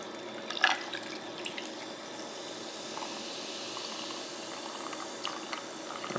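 Mountain Dew Baja Gold soda pours steadily into a glass, fizzing and crackling over clear ice, with a brief clink near the start.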